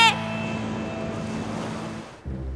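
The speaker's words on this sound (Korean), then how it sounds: "골드코스트엔 파도가 쉬지 않고 생기네!" Steady rushing surf of ocean waves breaking on a Gold Coast beach in a cartoon, a continuous wash of noise with some wind buffeting the microphone.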